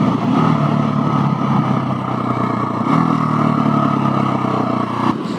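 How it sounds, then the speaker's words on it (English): Husqvarna 701SM motorcycle fitted with a Leo Vince Nero exhaust, its engine revving loudly and steadily up close with a rough, pulsing burble, easing off briefly before rising again. "Yeah, but the exhaust, it goes brap, brap, brap."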